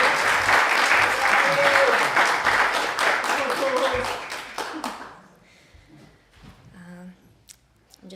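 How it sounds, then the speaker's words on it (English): An audience at a poetry reading applauds a poet, a burst of steady clapping that thins out after about five seconds, followed by quiet room sounds and a few faint noises. "Please give a round of applause for Riley Forrest."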